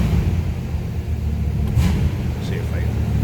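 A 1941 Plymouth 5-window coupe engine rumbles steadily at a warm-up high idle, a low continuous throb close by with a brief rise in revs midway.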